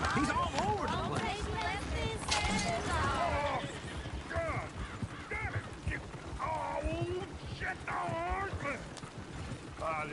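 Horse whinnies and hoofbeats in a PS4 video game, loud and continuous alongside game voices talking, with repeated rising neighs over busy clip-clop and ambient mechanical clatter.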